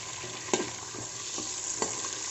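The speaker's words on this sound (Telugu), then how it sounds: "ఆయిల్లో వేసి వేయించుకోవాలి." Whole biryani spices frying in hot oil for chicken biryani, a steady sizzle with a few sharp stirring scrapes, close and moderately loud, no talking.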